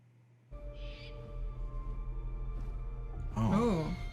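Owl hooting in a drama series scene, a low wavering call that rises out of a sustained musical bed near the end, fairly loud and close after quieter ambient tones.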